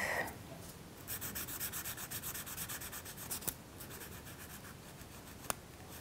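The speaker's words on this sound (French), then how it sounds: "la nageoire du bas que je vais colorier totalement en bleu" A crayon or pencil colouring a paper fish fin blue, heard close and faint as rapid back-and-forth scratchy rubbing strokes, with a couple of small taps.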